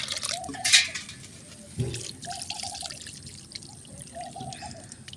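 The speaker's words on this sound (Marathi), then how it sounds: "हे डाळ धुवून घ्यायची चांगली दोन पाण्यानं" Chana dal being washed by hand in water for puran poli, with swishing, pouring and dripping splashes close by, in uneven bursts, including a sharp splash early on and softer sloshing after.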